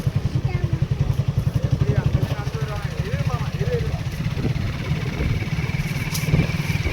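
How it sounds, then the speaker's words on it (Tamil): A motorcycle engine at a Murugan temple festival runs with a rapid, pulsing throb close by, lightly revved over a busy crowd where voices talk and call throughout. "முறுக்கு, லைட்டாக முறுக்கு."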